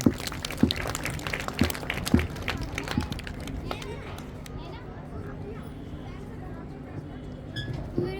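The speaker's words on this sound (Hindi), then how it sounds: "एक बार जोरदार तालियां हो जाए माही के लिए।" Audience clapping at a school Republic Day celebration, a dense patter of applause across a noisy hall with crowd and children's chatter, strongest early and thinning toward the end.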